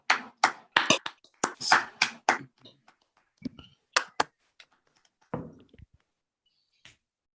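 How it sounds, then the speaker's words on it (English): Scattered hand claps from online seminar participants who have unmuted, a series of separate bursts with uneven rhythm, some louder and nearer than others, thinning out toward the end. "if we can unmute and just clap to acknowledge and thank you, Alessio"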